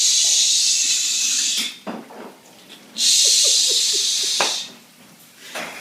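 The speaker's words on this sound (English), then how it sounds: "I kind of hear it sizzling already." Oil hisses in a pan for fried rice, a loud, broad sizzle in two long bursts. Softer gaps and a few faint clicks sit between the bursts.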